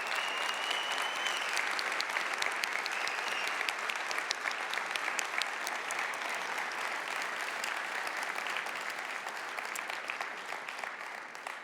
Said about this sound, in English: So can I ask that they please stand up so that we can give you a round of applause?